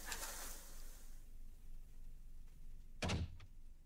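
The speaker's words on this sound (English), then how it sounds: "Door slammed so hard, I swear the building jammed." A door slams shut in the horror game The Almost Gone, set in a hospital: a sharp, heavy thud near the end of the clip, after faint ambience and a soft rustle at the start.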